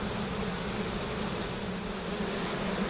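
Honey bees fan in a rescued hive, making a steady, dense, unbroken buzz that stays close and loud throughout, with no talking.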